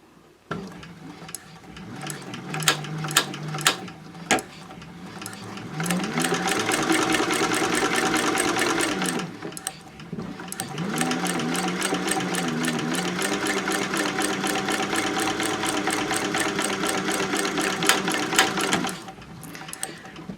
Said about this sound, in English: So I'll just line everything up and go ahead and sew that second seam